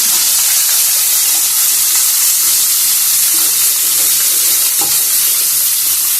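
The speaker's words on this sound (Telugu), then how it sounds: "టూ టేబుల్ స్పూన్ ఆయిల్ అయితే వేసుకొని బీరకాయ తొక్కలు కూడా అందులో వేసేసుకొని ఫ్రై అయితే చేసుకోవాలి" Ridge gourd peels frying in two tablespoons of oil make a loud, dense, unbroken sizzle and hiss close to the pan, steady from start to finish.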